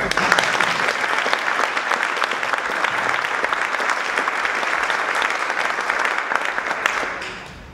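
Sustained applause fills a room at a community awards event honoring a local man, loud and even for about seven seconds before beginning to fade out.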